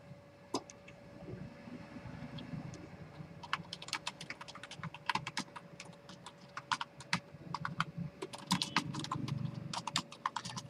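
Typing on a computer keyboard while writing a C program, with bursts of rapid, close keystrokes and brief pauses between them, over a low steady hum and no talking.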